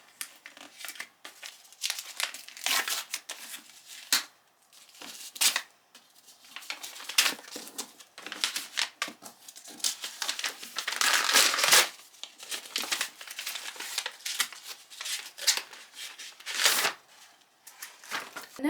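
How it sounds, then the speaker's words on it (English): Wrapping paper crinkles and tears as a wrapped book gift is opened, a close, busy run of rustles and rips lasting the whole stretch with a few brief pauses. "Let's unwrap it."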